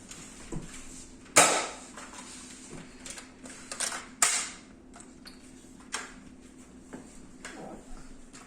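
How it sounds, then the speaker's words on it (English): A Nerf blaster is reloaded and its darts change automatically, giving sharp plastic clicks and snaps at irregular intervals, with a couple of louder mechanical clacks among them, close and without talk. "whenever you reload this one, you can see that it actually automatically changes darts"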